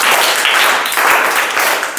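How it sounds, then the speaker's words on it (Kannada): Children clapping together in a classroom, a loud, dense burst of applause that holds steady for about two seconds, close and without speech. "ಚಪ್ಪಾಳೆ."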